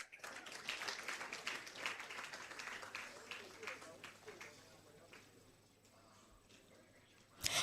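Audience applause at a university faculty dean's awards ceremony, a steady wash of many hands clapping that swells early and gradually thins out toward the end.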